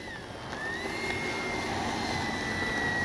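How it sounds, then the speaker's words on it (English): A Freewing F-22 90mm electric ducted-fan RC jet flies past in the wind, giving a steady whining, whooshing drone with a rising and falling tonal pitch. No one speaks. "What a great flying F-22."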